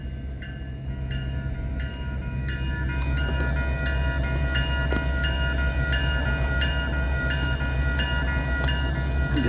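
A freight manifest train in Fremont, Nebraska, loaded with flat cars carrying tractors, gives a steady low diesel rumble as it begins to roll, with a repeating high-pitched rhythmic tone and clanks over it.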